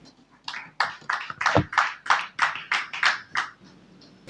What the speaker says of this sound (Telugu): అందరూ కూడా చక్కని చేతులు ఓడించి చప్పట్లు కొడుతూ దేవుని మహిమపరుచుకుందాం.